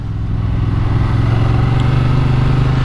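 A 2023 Honda Transalp XL750 motorcycle is underway, with a loud, steady engine drone and wind rush heard from the rider's position and no talk.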